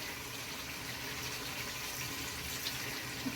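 Water from a small jug pours steadily into a pot of partly cooked chicken, a continuous splashing gush lasting a few seconds at close range.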